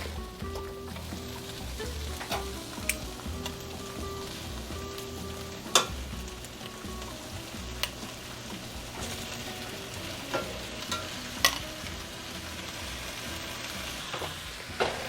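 Continuous sizzling and crackling of chicken frying in a pan, with occasional sharp clinks and scrapes of stirring.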